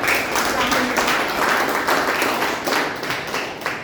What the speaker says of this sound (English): So a round of applause for our very talented.